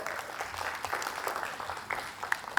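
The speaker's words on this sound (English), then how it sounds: "Guys, can we have a round of applause for Shraddha?" Audience applause at a TiECON Chandigarh 2026 startup pitch event, greeting presenter Shraddha: a moderate, steady wash of clapping from a seated crowd with a few sharper individual claps standing out, lasting the whole stretch without talk.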